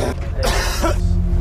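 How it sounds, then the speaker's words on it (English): A person coughing, a short harsh burst of coughs with throat noise, close and loud over a steady low background hum. "Nobody posts about the unexpected cough attacks."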